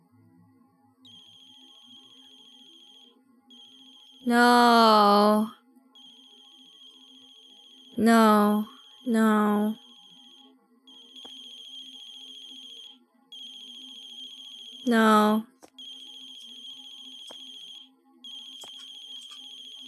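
A phone in The Closing Shift rings with a steady repeating electronic tone that keeps going throughout, interrupted by several loud, drawn-out vocal outbursts from a person speaking over it.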